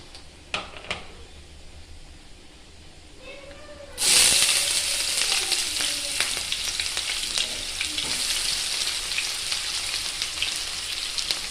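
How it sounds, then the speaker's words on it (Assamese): Chopped onions dropped into hot oil for a chicken curry, starting with quiet kitchen sounds and then a sudden loud sizzle that keeps up a bright, crackling fry with occasional stirring. "তেল প্ৰায় গৰম হ'লেই মই কাটি থোৱা পিঁয়াজখিনি দি দিছোঁ"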